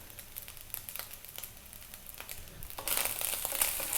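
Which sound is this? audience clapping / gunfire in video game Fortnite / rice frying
rice frying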